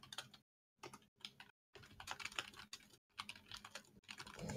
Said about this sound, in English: I know my keyboard's very loud.